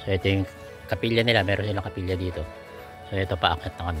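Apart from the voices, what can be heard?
No everyday noises stand out.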